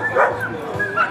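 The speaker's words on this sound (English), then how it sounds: "a rescue dog, mixed part cattle dog, I would think" A rescue dog, a cattle dog mix, barks and yips at a spring pet festival, two short close barks with a whiny edge, separated by a brief pause.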